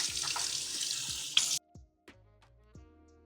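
Running water from a sink tap splashes steadily while a face is rinsed, then cuts off abruptly, leaving a few small drips and handling sounds in a quiet room.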